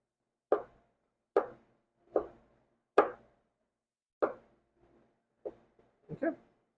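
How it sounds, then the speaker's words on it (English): A knife cuts cucumber on a board for sushi, giving about eight crisp, close chopping knocks at an uneven, unhurried pace, each one sharp and brief with short gaps between. "slice them one motion, forward, forward, or you can do it backwards, but make sure it's one motion, one cut all the way through."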